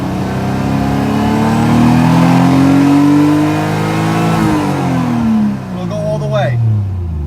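A 1JZ engine swapped into an FC RX7 drift car revs at light throttle, its loud, close tone climbing, wavering and falling back, with a voice audible over the engine.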